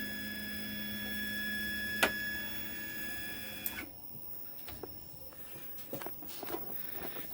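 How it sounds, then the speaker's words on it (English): A CNC machine is jogged forward along its X axis, giving a steady motor whine with a tonal hum for about four seconds before it stops, leaving faint clicks and small knocks in a quiet room. "I'm going to hit X, which will move the machine forward."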